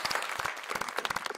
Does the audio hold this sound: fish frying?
no